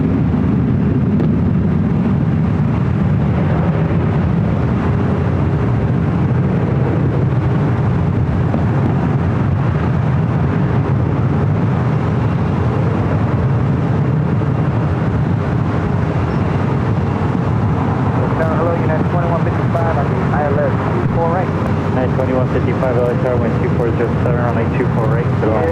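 A United Boeing 757 jet passes low overhead near LAX above Westchester, under the flight path. A loud, continuous roar fills the whole stretch, rumbling and broad, with voices faintly beneath it.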